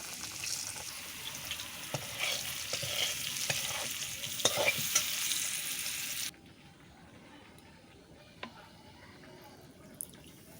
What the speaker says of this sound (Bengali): আর দিয়ে দিচ্ছি এখন কিছু কেটে রাখা আলু